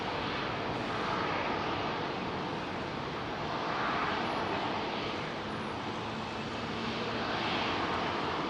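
An airliner departing Heathrow for Accra roars steadily as a broad, even jet rumble, moderately distant, with no voices.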